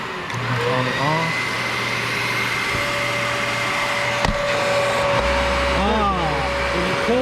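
A Dyson Ball upright vacuum cleaner runs with its brush bar spinning, giving a steady, close whirring drone that shifts pitch partway through, while a person talks over it.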